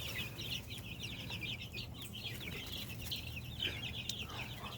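A backyard flock of chickens clucks steadily throughout, several birds overlapping in a busy, continuous chorus at moderate distance with no talk.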